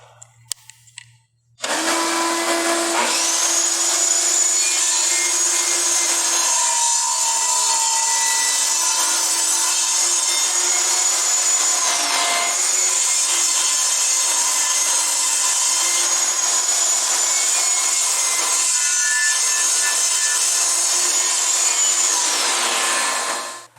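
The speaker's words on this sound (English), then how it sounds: "try to use the miter gauge and go through with this cut this way" A power saw cuts through wood guided by a miter gauge on a table saw. The motor spins up to a loud steady whine, the pitch drops as the blade bites into the wood, and the sound holds nearly the full clip before winding down.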